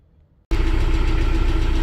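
After a brief quiet moment, a loud tractor engine suddenly starts up and idles steadily with a low, throbbing rumble close by.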